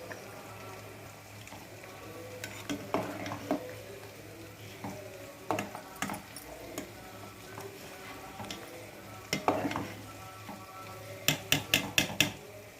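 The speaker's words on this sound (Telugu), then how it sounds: "చూడండి, రైస్ ఎలా ఉడుకుతుంది." Rice simmering in a pot with oil and a bay leaf for coconut pulao, with soft bubbling under scattered metallic clinks and scrapes of a utensil against the pot, louder clusters of clatter near the end.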